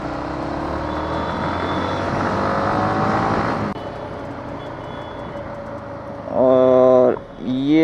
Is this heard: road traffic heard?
yes